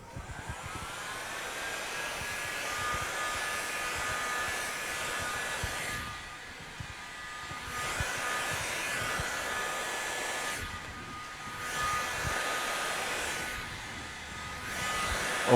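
A heat gun blows a steady, loud whooshing hiss while heating vinyl wrap to about 90 degrees, cutting out briefly three times between bursts and then resuming.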